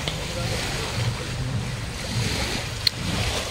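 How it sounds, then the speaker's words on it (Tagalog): Open sea washing against a boat, a steady low wash of water with wind noise across the mic and a single sharp knock near the end. "nandito ulit tayo sa dagat"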